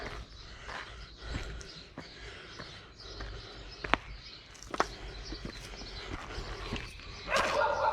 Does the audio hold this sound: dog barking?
yes